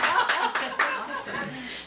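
Small audience clapping after a book reading at a bookstore, a brief scattering of hand claps at moderate distance mixed with light laughter.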